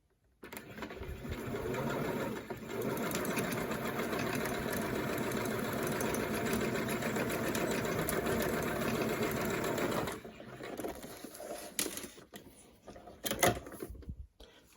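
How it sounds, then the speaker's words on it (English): Sewing machine stitching over a zipper to attach a tab, a steady fast mechanical whir running for about ten seconds close by, then stopping, followed by a few faint handling clicks and knocks. "I'm going to sew over the zipper to sew the tab on."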